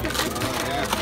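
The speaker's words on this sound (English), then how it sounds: "Now we're dropping the apples in the pressing machine." An apple pressing machine at an Oak Glen apple farm grinds whole apples in a steady, dense crunching churn that runs through the whole moment, with voices faintly audible beneath it.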